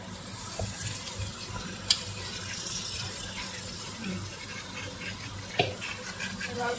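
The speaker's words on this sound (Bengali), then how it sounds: "দিয়ে দে জল শুদ্ধ দিয়ে দে" Water poured into a cooking pot holding fish head and Gobindobhog rice, a steady running splash with a couple of sharp knocks, close and fairly constant throughout, no talk.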